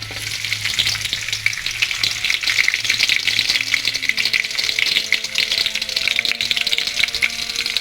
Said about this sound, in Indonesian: Ini minyaknya sudah panas dan akan saya tumis bawang terlebih dahulu